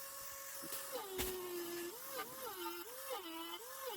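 A Dremel 3000 rotary tool carves letters into a planter, its high whine dipping and rising repeatedly as the bit bites and eases off the surface, close and steady, with no voices.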